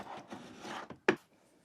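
An HTVRONT A200 auto tumbler heat press's 40-ounce tapered plate scrapes and rubs along its rails for about a second, then snaps into place with one sharp, close click, followed by quiet.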